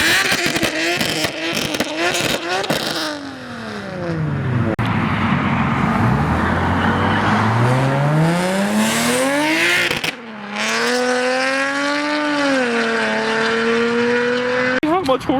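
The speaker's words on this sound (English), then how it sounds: "Got the G37 shooting some flames real quick." An Infiniti G37 at a car meet revs hard and shoots exhaust flames, with sharp rising and falling engine sweeps and crackling pops in two close bursts split by a brief cut, amid crowd noise.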